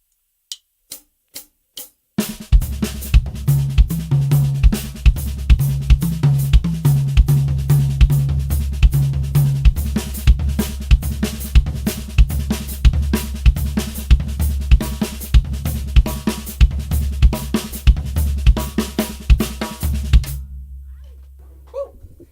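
A drum kit plays a steady groove with left-foot hi-hat variations, opening with a few isolated hits before settling into a loud, driving pattern of kick, snare and crisp ticking hi-hat for about eighteen seconds, then stopping.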